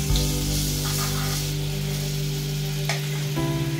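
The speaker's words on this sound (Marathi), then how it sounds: "तडक्याचे भांड गरम करायला ठेवलंय. त्यामध्ये थोडं तेलाचा वापर करते आणि मग बटरचा वापर करते." Butter sizzles in hot oil in a small tadka pan, a loud, steady crackling fry with a low hum beneath and a brief stir-like rustle near the end.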